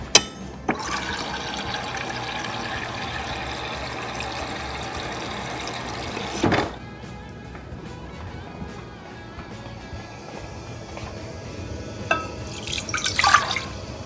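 Water runs steadily into a rice pot on the stove for several seconds, then stops, followed by quieter trickling and a few clinks near the end.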